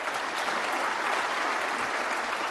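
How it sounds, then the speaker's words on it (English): A snooker crowd claps steadily for a good shot at the 2010 Masters final, dense sustained applause at moderate volume with no voices over it. "Well acknowledged by the crowd"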